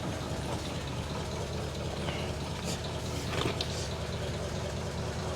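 A 1947 vehicle with a freshly rebuilt transmission runs at a quiet, steady idle, a low mechanical clatter with faint ticking, heard alone and fairly soft.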